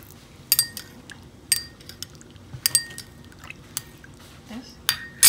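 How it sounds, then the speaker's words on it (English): Fish sauce and water are mixed for a dipping sauce, with several sharp clinks of a utensil against a bowl and soft liquid sounds, spaced irregularly in a quiet kitchen. "So 1 part of fish sauce and 2 parts of water."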